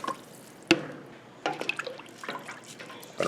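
Water trickles and splashes intermittently into a pot for beef stew, faint and close, with a few sharp drips and bursts of pouring rather than a continuous stream.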